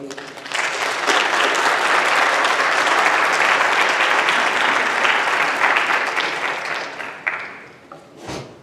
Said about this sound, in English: Let's give it up with another round of applause for Dolores